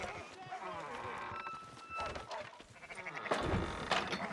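Sheep bleat in short wavering calls amid Red Dead Redemption 2 game background sounds and shuffling, with a voice speaking over parts of it.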